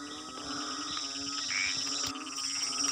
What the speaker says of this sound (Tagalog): maghahanap tayo ng mga may ingay na palaka